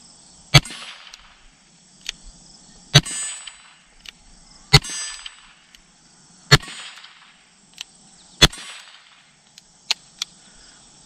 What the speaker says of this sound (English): Let's go at the big silhouette here and do a double action pull